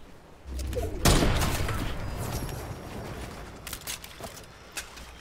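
Gunfire crackles in a Fortnite match: one sharp, loud shot at the start, then a spread of scattered reports and rattling bursts against steady background game noise.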